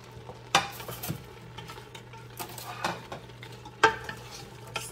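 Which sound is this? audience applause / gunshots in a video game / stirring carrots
stirring carrots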